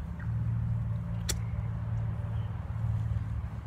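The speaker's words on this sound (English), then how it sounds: "That was the lawnmower." A lawnmower drones steadily through the clip while a yard is cleaned up, its low engine hum constant and fairly close, with a brief sharp click or knock partway through.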